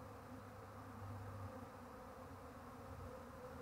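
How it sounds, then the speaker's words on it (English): Cloud of honey bees swarming toward a new home gives a soft, continuous buzzing hum that holds steady throughout, with no voices. "cloud of bees here, right through the swarm"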